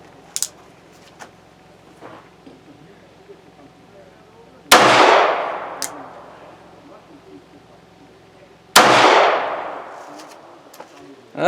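A Davis Industries .22 Magnum derringer firing Winchester rounds: two sharp, loud reports several seconds apart, each trailing a short echoing decay, with faint handling noises in between.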